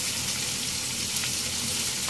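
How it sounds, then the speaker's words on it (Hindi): Whole green chillies frying with okra in a pan, a steady close hiss of sizzling oil that runs without pause. "हरी मिर्चों को भी इसके साथ फ्राई करेंगे।"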